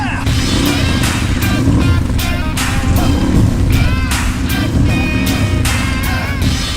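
A 1000cc turbo off-road engine held high at about 8,000 RPM, a loud, steady, close roar with rhythmic pulses throughout.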